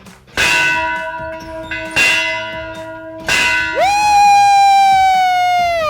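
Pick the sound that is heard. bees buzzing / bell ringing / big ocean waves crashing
bell ringing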